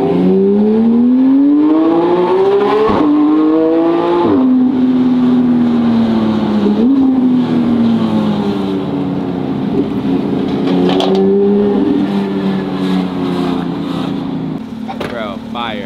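A Porsche sports car's engine revs hard toward 9,000 rpm, its loud, close howl climbing in pitch through repeated gear shifts, and voices can be heard faintly beneath the engine.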